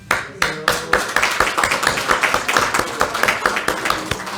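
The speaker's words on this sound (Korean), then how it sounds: "잠깐 일어나셔서 인사하실 때 박수 한번 쳐주시기 바랍니다." A church congregation claps together in welcome during an afternoon service, a dense run of quick, close hand claps that starts abruptly and keeps a steady rhythm throughout.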